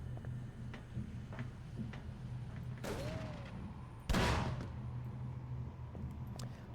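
Gunfire in the horror game Call of Cthulhu: Dark Corners of the Earth, two sharp shots a little over a second apart, the second louder, over a faint steady hum and scattered small ticks.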